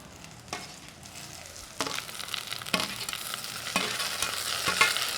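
Tomatoes sautéing in a hot pan for a crab rasam, with a steady soft sizzle broken by several sharp scraping stirs of the spoon against the pan, close and fairly loud.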